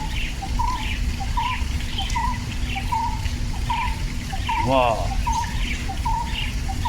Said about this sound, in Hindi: पक्षियों की आवाज़ अपने आप ध्यान जाएगा।